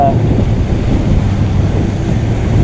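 Sailing boat at sea between New Zealand and Fiji in inconsistent wind and sloppy seas, a loud, constant rush of wind buffeting the microphone over churning waves, with no pauses or talking.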